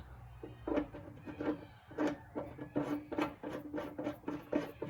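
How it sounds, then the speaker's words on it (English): A bolt turns into a freshly tapped hole while a D-ring anchor is added to a Maverick XL, giving repeated short scraping, ratcheting bursts in an uneven rhythm, close and fairly quiet. "now that we got the tap, or the hole tapped, let's see if a bolt will go in"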